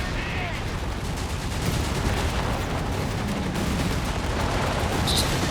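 Dense, continuous gunfire and cannon shots in Company of Heroes 3 pound against a tank, a steady wall of rattling fire with occasional heavier booms, loud throughout with faint talk underneath.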